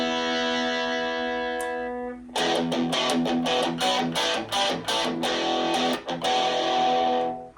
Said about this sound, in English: And distortion. Ooh, I would think everyone's favorite.